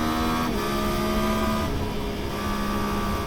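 A 2024 Yamaha MT-09 motorcycle engine accelerates through its gears. The steady mechanical drone climbs in pitch, then drops at each shift. It is fairly loud and continuous, with no voices.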